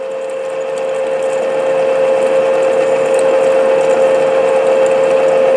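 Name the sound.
drilling a whistle with a drill bit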